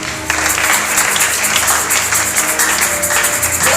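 A church congregation bursts into applause, a dense, close clapping that starts abruptly and carries on steadily with rhythmic accents throughout.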